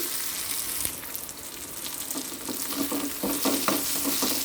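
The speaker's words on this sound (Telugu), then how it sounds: "పోపులో ఇలా వెల్లుల్లిపాయ వేయటం వల్ల మంచి ఫ్లేవర్ వస్తుందండి" Garlic sizzles in hot oil for a tempering, giving a steady, close frying crackle with small pops that grows slightly busier toward the end.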